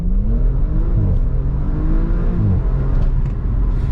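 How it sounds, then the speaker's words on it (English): A 2020 Audi RS4 Avant with Quattro all-wheel drive accelerating hard, heard from inside as a loud, steady engine roar climbing in pitch through the gears, with no talking. "I'm just going to give you another quick acceleration out of here"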